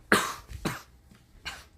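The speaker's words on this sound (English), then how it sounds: "I'm just coughing." Three dry coughs from one person, close and fairly loud, spaced with short pauses between them, with no talking.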